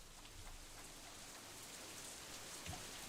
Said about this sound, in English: No way I'm going to carry baggage to the train station in this rain, even if there's not that much of it.